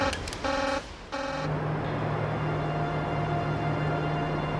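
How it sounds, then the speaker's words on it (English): An alarm buzzer sounds in a nuclear power plant control room at Chernobyl: a few loud, harmonic buzzing bursts, then a steady low droning tone that holds to the end. "Another alarm."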